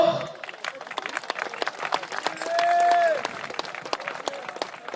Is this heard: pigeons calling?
no